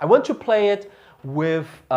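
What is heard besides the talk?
No everyday noises stand out.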